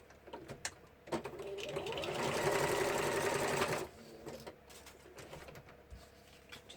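A sewing machine runs a zigzag stitch in one continuous buzzing burst of about three seconds, with short quieter whirs before and after and faint bird cooing in the background.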